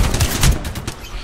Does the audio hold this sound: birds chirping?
no